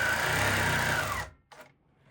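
A sewing machine runs fast and steady, stitching quilt fabric close up for just over a second before it stops abruptly, followed by a brief faint mechanical rustle.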